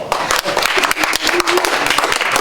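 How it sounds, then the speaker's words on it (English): Family concert audience applauding together, a dense continuous patter of many hands that stays loud and steady for a couple of seconds. "please give yourselves a round of applause"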